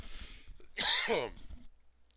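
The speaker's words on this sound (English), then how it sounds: "Excuse me, I'm gonna cough." A single sharp cough bursts out, close and fairly loud, trailing off into a brief rasp, with quiet background sounds before and after.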